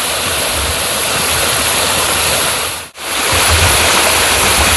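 Poomala waterfall running low after little rain, a steady, loud broadband rush of falling water that continues without a break apart from a sudden brief dropout near the middle.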